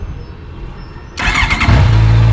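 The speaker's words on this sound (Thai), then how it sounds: "ฟังเสียงนะครับเสียงสตาร์ทของเขาอะ" A Honda CB650F motorcycle, about seven years old, cranks and fires up, settling quickly into a loud, steady low idle rumble close by.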